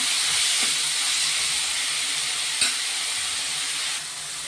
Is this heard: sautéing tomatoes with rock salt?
yes